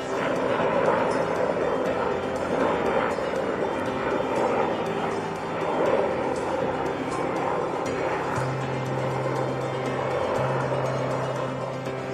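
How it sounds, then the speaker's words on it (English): A steady, fairly loud Sikorsky CH-53 Sea Stallion helicopter roar passing overhead in a desert area, droning continuously with no pauses. "a giant Sikorsky CH-53 Sea Stallion helicopter flew overhead"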